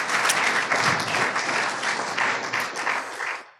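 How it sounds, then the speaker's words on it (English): Loud, steady round of audience applause at an Angel Summit investor event, many hands clapping in a dense wash that holds evenly before tapering off at the end. "let's give it up first with a round of applause"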